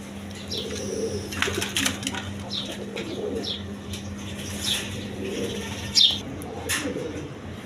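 Red Gorra pigeons at a market give soft repeated coos and bursts of wing flapping, close by, with scattered chirps, a sharp flap near the end and a faint background hum.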